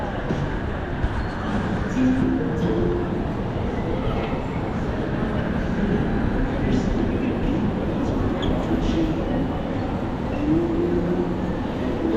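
Train rumble and rolling rail noise inside Kuala Lumpur station, a steady broadband roar over the whole stretch with faint background voices mixed in.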